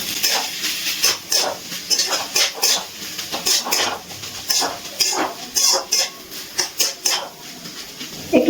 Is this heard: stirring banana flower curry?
yes